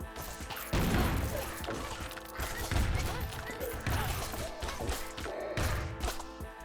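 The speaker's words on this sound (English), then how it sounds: "I need to turn off explosions." Repeated explosions in the action game Bounty of One crash through the clip, heavy thuds and smashes bursting in quick succession over a dense, continuous game soundscape.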